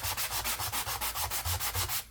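A sanding sponge rubbed over a game card in fast, even strokes, roughly five per second, giving a close, raspy scrubbing rhythm that stops abruptly at the end.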